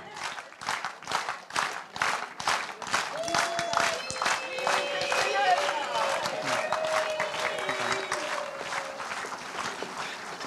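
Rhythmic unison clapping from a seniors' concert audience for a singer, starting as distinct beats and merging into denser applause, with voices and cheering over it.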